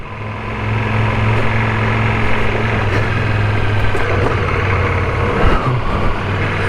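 A Ducati motorcycle engine runs steadily at close range, a loud, even mechanical drone with a low throbbing hum and no voices, heard in the morning before setting off on a ride.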